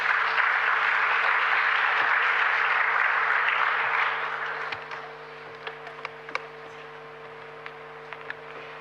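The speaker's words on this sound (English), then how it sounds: "Please, a round of applause for this very engagement conversation." An audience at a conference opening plenary applauds after a panel conversation, a dense, fairly loud burst of many hands that fades out about halfway through, leaving only a few scattered late claps in a quiet room.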